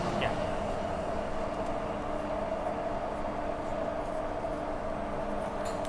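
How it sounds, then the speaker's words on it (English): A Hong Kong metro train pulls out of HKU station with a steady, moderately loud motor drone and a faint humming whine that carries on evenly, with ambient platform noise around it. "wait for the train to leave"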